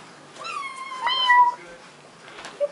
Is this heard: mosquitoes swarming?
no